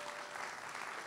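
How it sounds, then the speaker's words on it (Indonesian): A church youth congregation applauds, a brief burst of dense, even clapping from a crowd in a hall. "beri tepuk tangan pada Tuhan"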